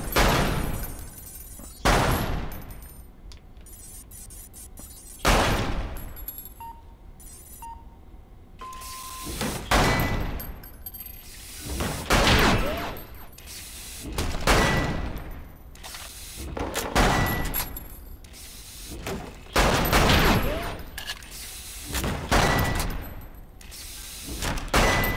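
Repeated gunshots at a shooting range in the VR game Lethal VR, loud broadband cracks spaced every few seconds over roughly twenty-five seconds, with mechanical clicks and reload rattles between shots and no talking.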